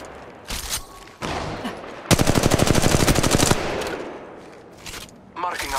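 Gunfire in Apex Legends Mobile, in a battle royale match, opens with a couple of brief single shots. A rapid automatic burst follows, close and loud, then trailing shots and faint game voice callouts, with someone speaking briefly.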